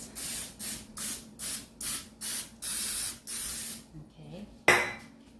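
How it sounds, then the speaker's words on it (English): Cooking spray hisses onto small mochi holders in about eight short, evenly spaced bursts, then a longer spray, a pause, and a sharp clatter near the end. "spray down 8 of these handy dandy little holders here"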